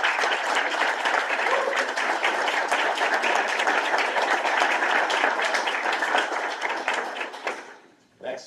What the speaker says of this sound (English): So I really want a really big round of applause for Mr.